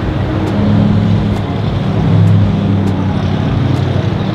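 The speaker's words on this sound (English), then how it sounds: "Got some monster trucks over here in the background." Monster truck engines rumbling at an outdoor auto show, a loud continuous low drone with a throbbing hum that swells slightly midway, steady throughout with faint background clatter.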